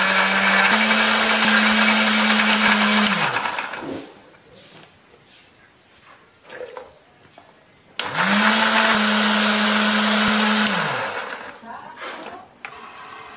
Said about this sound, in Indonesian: Kalau sudah halus